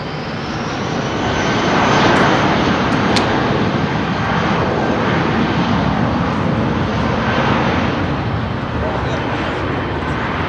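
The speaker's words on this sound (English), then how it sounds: "so it's not directly behind the aircraft when he powers up to move" Aircraft engines at London Heathrow Airport power up into a loud, sustained roar that swells over the first two seconds and then holds steady, with people talking beneath it.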